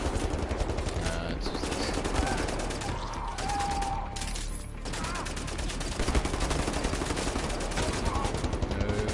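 A heavy mounted gun fires at a fortified Nazi checkpoint in the video game Wolfenstein, a loud, near, continuous rapid burst of shots that runs throughout, with a brief voice speaking over it.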